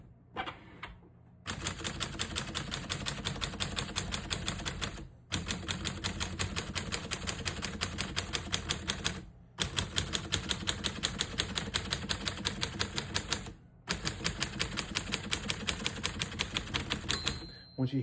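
A maroon 1939 Corona Sterling portable typewriter types in rapid, steady bursts of sharp key strikes. Brief pauses separate the bursts, and a bright margin bell rings near the end.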